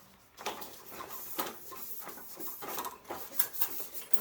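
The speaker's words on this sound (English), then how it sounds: "she's gonna start dusting or cleaning the blinds" A yellow cloth duster rubs and swishes across window blinds in repeated soft strokes, close by and fairly quiet, with faint slat rattles between the passes.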